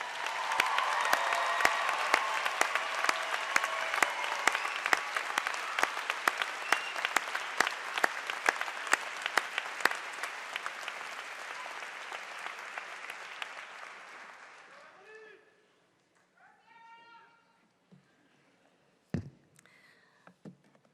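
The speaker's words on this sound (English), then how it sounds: "Let's give them another round of applause." An audience at a bilingual French and English graduation ceremony for the Education and Arts class of 2016 applauds the graduates, dense clapping that fades out near the end, followed by a few faint sounds and a brief voice.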